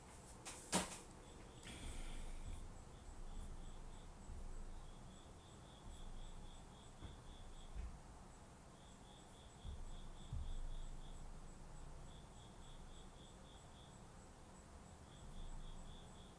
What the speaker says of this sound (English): You could hear a lot of cricket sound, right?